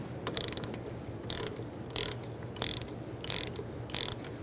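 Ratchet clicks in short rapid bursts while tightening a rear brake caliper bolt on a 2010-2013 Kia Soul, about half a dozen close, crisp strokes separated by brief pauses over a low background hum.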